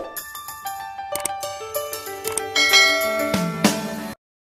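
A bright notification bell sound effect plays a quick run of ringing chime tones that build and layer, close and clear, then cut off sharply.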